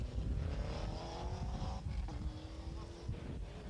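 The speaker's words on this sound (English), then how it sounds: "Bob Fowden's Group A Escort Cosworth is next in the order" A Group A Ford Escort Cosworth rally car on a 1993 international rally stage drives by with a loud engine drone and rising, shifting tones, a sharp change near the middle, as if passing close and then pulling away.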